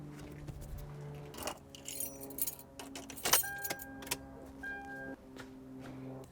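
Keys jangle and click into the ignition of a Toyota 4Runner, metallic rattles up close followed by a steady chime tone and several faint beeps from the vehicle.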